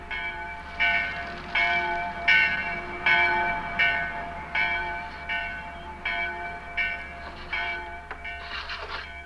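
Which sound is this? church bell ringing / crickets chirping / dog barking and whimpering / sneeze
church bell ringing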